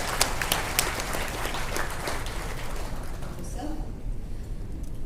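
Audience at a media summit applauding, a dense patter of many hands clapping close and loud, fading out toward the end as a voice begins under it.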